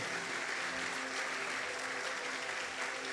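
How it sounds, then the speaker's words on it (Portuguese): A church congregation at a Tuesday evening service claps continuously and evenly, a thick steady roar of many hands with no pause. "Você pode aplaudir a Ele e o faça com alegria."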